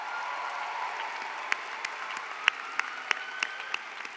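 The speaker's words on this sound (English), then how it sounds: "If we could give them a quick round of applause." A commencement crowd at a spring university graduation gives a brief round of applause, a dense, moderately loud clapping with a few sharper claps standing out.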